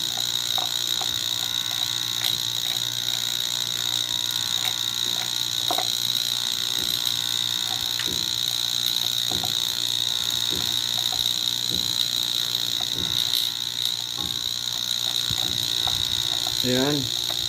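A vacuum pump runs steadily during a refrigerator repair on a clogged capillary tube, a constant buzzing drone with small mechanical clicks, while someone talks over it.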